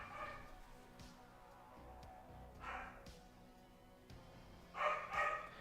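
A neighbour's dog barks in the distance, with a few faint, muffled barks spread out over a low indoor hum.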